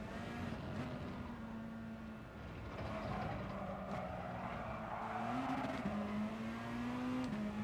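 Race car engine in a racing video game, a steady droning whine holding pitch and then climbing slightly as it revs, fairly faint and continuous with no talking.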